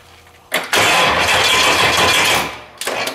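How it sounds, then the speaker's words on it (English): A 5.9 Magnum V8 fitted to a lawnmower cranks and fires, bursting into a loud roaring run for about two seconds before dropping off, then a second short crank at the end, close and unaccompanied by voices. "I want to hear this thing fire up"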